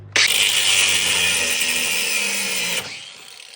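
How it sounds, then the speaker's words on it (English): An angle grinder cuts through a rusty, frozen spare tire hanger in one loud, steady, high-pitched whine lasting about three seconds, then spins down and stops. "take your angle grinder and cut the rest of it off"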